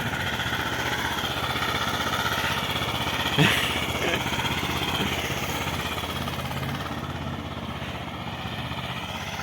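A mini tractor's engine runs steadily as it drives through fresh snow in winter. The close, continuous mid-range rumble holds an even level throughout, with a brief louder burst near the middle.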